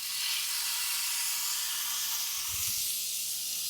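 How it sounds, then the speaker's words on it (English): A filet mignon sears on a hot cast iron pan at about 410 degrees, producing a loud, continuous, close-up hissing sizzle that holds steady throughout. "Now listen to that sear"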